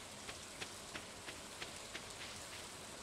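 Steady rain falls in the farming video game Stardew Valley, a soft even hiss of rainfall with faint regular ticks from droplets and no talking.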